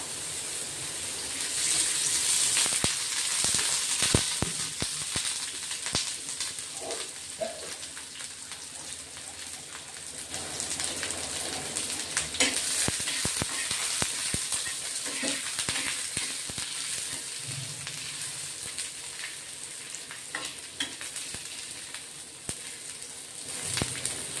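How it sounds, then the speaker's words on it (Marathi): Long-cut sliced onion fries in hot oil, giving a faint, steady sizzle with scattered crackles and pops that runs throughout. "तेल टाकायचं, थोडं लवकर भाजला जातो कांदा."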